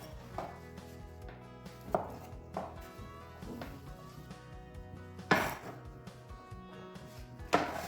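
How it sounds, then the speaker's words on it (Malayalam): A knife chops zucchini lengthwise on a board, with about six sharp, distinct cuts landing at irregular intervals, close and clear with no talk. "ചുക്കിനി നമ്മൾ നീളത്തിലാണ് അരിയുന്നത്"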